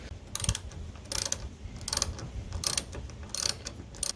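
A hand wrench ratchets in several quick clicking runs while tightening the lower shock mount of a DeeZee tailgate assist on a GMC Sierra or Chevy Silverado tailgate, close and fairly quiet.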